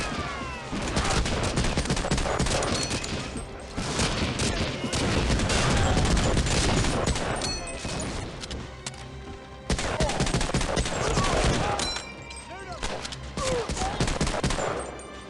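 Video game battle with dense, continuous gunfire and volleys of shots, loud and close, with brief lulls around the middle; shouted commands from soldiers come through the din.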